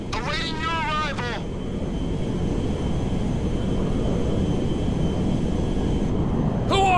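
A cargo jet in GTA V drones steadily, a broad even roar of engine noise that holds for several seconds, with brief game radio voices at the start and end.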